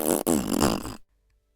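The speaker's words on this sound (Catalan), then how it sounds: "El bou va fer el pet més gran, més sonor i més espectacular que s'havia sentit mai en tot el poble." A loud, long cartoon fart effect from an ox, a buzzing rasp lasting about a second that cuts off abruptly into silence.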